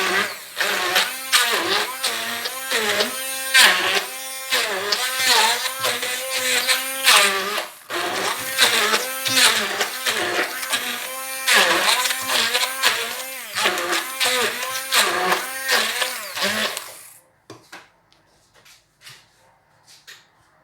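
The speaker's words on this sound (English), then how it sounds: "The next thing I will do is to blend it with my hand blender." A hand blender whirs through vegan dish ingredients in loud, pulsing bursts with shifting pitch, running for about seventeen seconds before cutting off to near silence.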